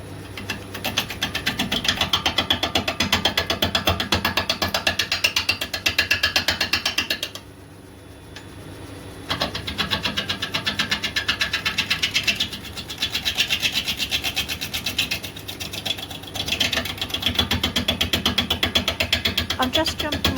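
A wood lathe spins a natural-edged holly bowl blank at 500 RPM, a steady mechanical whir with rapid rhythmic ticking, briefly cutting out midway before resuming, with speech heard over it.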